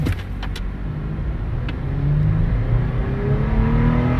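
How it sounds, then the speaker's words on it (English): A 2025 Toyota 4Runner TRD Off Road accelerating hard from a standstill, its engine droning steadily and rising in pitch as it pulls through the gears, heard loud and continuous from inside the cabin. "Let's see how it accelerates."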